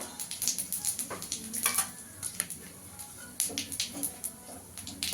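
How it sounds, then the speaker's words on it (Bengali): Two dried red chillies and a bay leaf crackle and spit in hot oil, with quick irregular pops and sizzles over a quiet, steady background and no voices. "এবারে তেলের মধ্যে আমি দুটো শুকনো লঙ্কা, তেজপাতা ফোড়ন দিয়ে দেবো"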